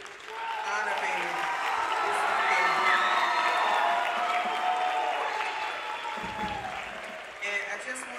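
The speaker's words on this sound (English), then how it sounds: "give a special round of applause for Mr. Gabriel Orozco" Applause and cheering from a school holiday concert audience for a tenor saxophone player honored for the District Honor Band, a sustained, dense wash of clapping with shouts and whoops that swells and then eases near the end.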